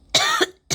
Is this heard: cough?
yes